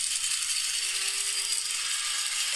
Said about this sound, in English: let's see if I can get a coffee grinder sound effect